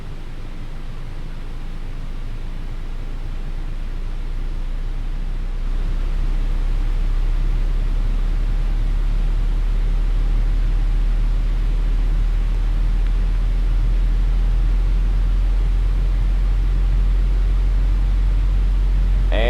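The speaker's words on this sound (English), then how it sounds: "Let's fire them up, starting with engine number 2 on the right side." A cargo plane's number 2 engine, on the right side, spools up with a broad, steady roar that builds and then holds loud and constant, with no talking.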